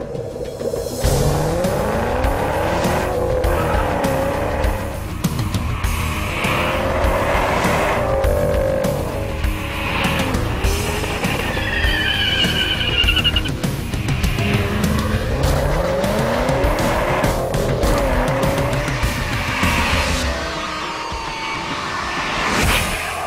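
A 2010 Ford Shelby GT500 Mustang is driven hard, its engine roaring steadily close by while the tires squeal and skid repeatedly through the run.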